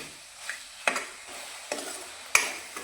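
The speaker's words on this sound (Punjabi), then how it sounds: "ਲਗਾਤਾਰ ਹਲਾਉਂਦੇ ਹੋਏ 2 ਮਿੰਟ ਆਪਾਂ ਸਬਜ਼ੀਆਂ ਨੂੰ ਪਕਾ ਲੈਣੇ ਆ" Vegetables for dalia pulao cook in a pan as a spoon stirs them, giving a few sharp scrapes and clinks over a faint, quiet sizzle, close by with no talk.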